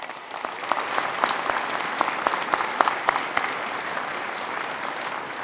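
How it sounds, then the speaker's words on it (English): A commencement crowd at Oregon Tech in Klamath Falls applauds graduates' families, a steady mass of clapping with individual sharp claps standing out, holding at an even level throughout. "Let's give the families a warm round of applause and a thank you for their commitment."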